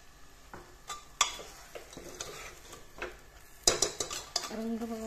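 Masala scraped and stirred in a pan with a metal spoon, giving repeated clinks and scrapes over a faint sizzle, fairly close and moderately quiet.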